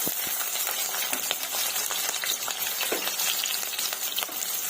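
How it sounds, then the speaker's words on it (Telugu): Sliced medium onions fry in hot oil for a chole masala curry, giving a constant close sizzle with crisp crackles and pops throughout and no voices. "ఇవి కూడా ఆయిల్లో ఫ్రై చేసుకుందాము."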